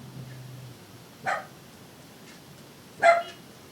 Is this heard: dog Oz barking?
yes